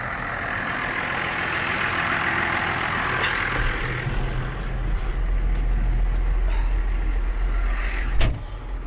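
Tractor pulling a seeder while sowing soybeans in a field, a steady low engine drone running throughout, fairly loud and close, with a brief sharp clank near the end.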